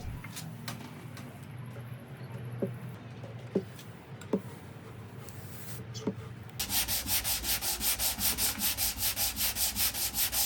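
Scratched wooden furniture being hand-sanded after its grain was raised with an iron. Faint ticks and knocks come first, then steady, rhythmic back-and-forth sanding strokes, close and fairly loud, with no voices.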